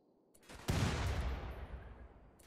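Gunfire in RimWorld, a sharp shot followed by a dense burst of rapid firing that slowly fades, heard alone at moderate loudness.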